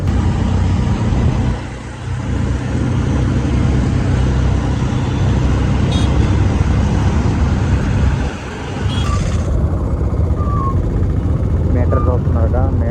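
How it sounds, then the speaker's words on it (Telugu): Auto rickshaws drive through Mumbai traffic with a steady, loud engine drone and road noise that stays close and continuous. "ఇదంతా ఆటో రేస్ లాగా ఉంటాయి, అన్ని ఈక్వల్గా వెళ్తూనే ఉంటాయి"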